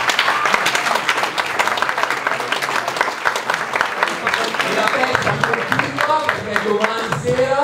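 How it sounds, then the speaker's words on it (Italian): A theatre audience applauds young performers at an oratory festival show, a dense round of clapping that runs throughout, with a voice speaking over the later part. "allora davvero ancora un grande applauso a questi ragazzi."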